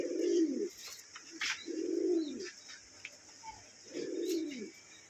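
Pigeons coo in three low, rounded, repeated phrases with pauses between, close and clear, while faint chirps and light rustling sit in the background.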